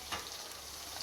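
Potatoes fry with golden onions in a pan for aloo chicken biryani, giving a faint, steady sizzle with one slightly louder crackle near the start.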